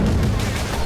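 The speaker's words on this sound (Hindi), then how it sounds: "तेल अवीव का सुरक्षा तंत्र टूट चुका है, लिहाजा ईरानी मिसाइलें बेरोक-टोक विस्फोट कर रही हैं।" Iranian missiles exploding in Tel Aviv during the Israel–Iran war produce dense, continuous booming and crackling blasts, loud and rumbling with broad low-end weight, heard without speech.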